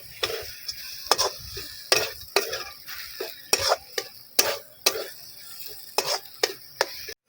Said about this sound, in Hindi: अब अच्छे से मिक्स कर देते हैं।